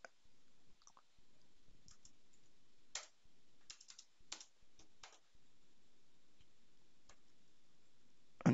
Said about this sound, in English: And press an enter key.